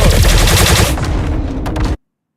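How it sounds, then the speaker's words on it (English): A 900 m/s cannon fires in a video game, a loud rapid burst of shots that thins out and then stops abruptly. "It's a 900 meter second cannon,"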